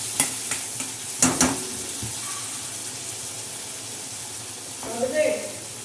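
Chickpeas hit hot ghee and sizzle while being stirred, with sharp scraping clatters near the start and near the end over a continuous frying hiss.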